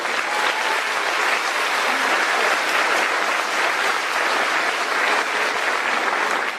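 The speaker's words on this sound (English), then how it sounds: "Let's give a round of applause to Nathan and Cassidy." A large crowd at a high school graduation ceremony claps steadily in a thick, even wash of applause, loud and sustained with no voices standing out.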